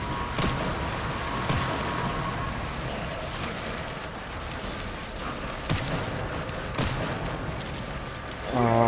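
Gunfire in the horror game Resident Evil Requiem, several sharp separate shots spread across a noisy in-game background, with someone talking over it.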